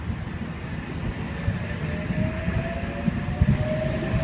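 A Sydney Trains Oscar electric train pulls out of platform 1 at Milsons Point on a city-bound service, with a steady loud rumble and rolling wheel noise and a faint rising motor whine.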